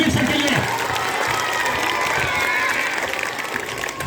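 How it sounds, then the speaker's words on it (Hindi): Schoolchildren clap loudly and steadily at a school farewell gathering, a dense continuous applause that fills the clip, with some voices mixed in underneath. "जोरदार तालियां"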